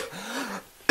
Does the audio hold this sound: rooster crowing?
no